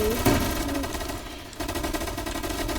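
Sustained gunfire in the Roblox shooter Gunfight Arena: a dense, continuous rattle of automatic shots that is loud and steady, with a brief lull midway before the firing resumes.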